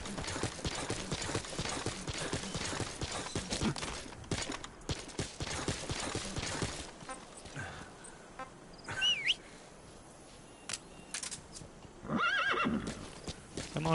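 Hooves clip-clop and gallop in the Metal Gear Solid V video game, with a horse neighing and whinnying, loud and busy at first, then thinning out into sparse footfalls and a few sharp bursts.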